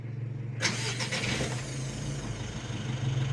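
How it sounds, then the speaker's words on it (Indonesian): A Mitsubishi L300 Euro 4 diesel is cranked by its starter, a loud continuous whirring drone that begins abruptly and carries on for about three seconds with a steady low hum underneath. "Coba kita starter."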